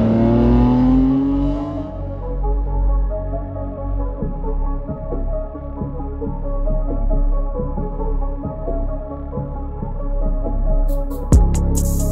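A small 1994 Honda Beat car engine idles and revs steadily up close, a throbbing low drone running throughout, with a sharp click near the end.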